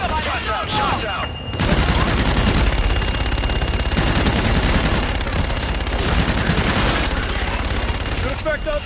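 Sustained machine gun fire in the video game Call of Duty: Infinite Warfare, a loud, dense rattle of rapid shots with booming impacts that continues for several seconds after a brief lull, with radio-style game voices at the start and end.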